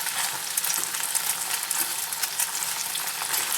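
Slices of salty Spam sizzle steadily in a hot pan with a brown sugar marinade, a dense, continuous crackling fry heard up close with small spatter pops and no voices.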